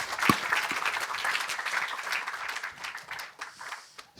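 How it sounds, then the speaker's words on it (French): An audience at the closing ceremony of the Défi iDoc Santé applauds, a sustained patter of many hands that fades toward the end. "Je pense qu'on peut vraiment applaudir toutes les équipes et les féliciter"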